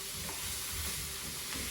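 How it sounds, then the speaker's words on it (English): Onions and mixed vegetables frying for fried rice, stirred in a hot pan: a steady close sizzle with soft scraping stir strokes, continuous and alone without voices. "Go ahead and give that a quick stir."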